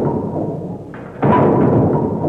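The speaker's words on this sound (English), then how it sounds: "That's the sound of bowling" A bowling strike, with a ball rolling down the lane as a steady rumble, then a sudden loud clatter of pins that continues with a dense crash. The sound is close and heard alone, with no talking.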